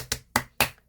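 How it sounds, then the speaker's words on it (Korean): Hand clapping by one person, three sharp, evenly spaced claps in under a second, close and clear against near silence. "박수 치세요."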